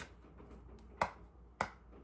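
Taps land on a tarot card deck, two sharp, close knocks about half a second apart against a quiet background.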